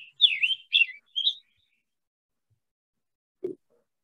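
A scarlet tanager sings a quick run of three short, hoarse, whistled phrases, then falls silent, with a single soft low knock near the end.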